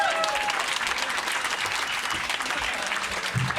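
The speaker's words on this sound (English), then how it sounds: "Hey, keep it clapping." Audience applause in a comedy club, sustained dense clapping with faint crowd noise and a voice briefly heard beneath.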